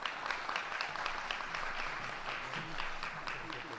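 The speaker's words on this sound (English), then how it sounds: "let's please give a warm round of applause to Mayor Brandon Johnson." Steady applause from a crowd at a budget town hall, continuous clapping at a moderate, somewhat distant level with no voices over it.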